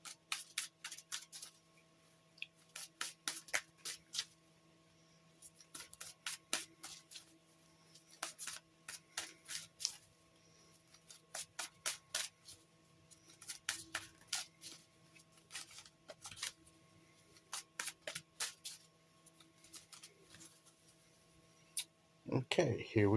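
Tarot cards being shuffled and handled, with repeated bursts of quick papery riffling and flicking in irregular clusters over a quiet background hum, fairly close, ending in a louder rustle.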